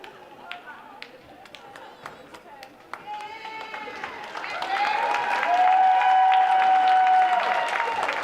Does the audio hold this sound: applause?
yes